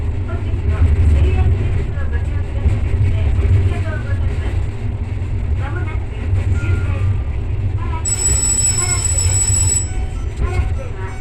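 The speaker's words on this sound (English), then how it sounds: "The train curves left and enters Karatsu Station" A train rumbles steadily as it curves into Karatsu Station, Japan, with wheel squeal and a brief high-pitched chime near the end; people talk faintly underneath.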